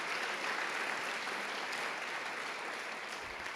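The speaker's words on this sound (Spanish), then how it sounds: "Le damos un aplauso a nuestro Señor esta mañana." Steady, dense applause from a church congregation during a Spanish-language service fills the whole stretch, even and sustained with no voices standing out.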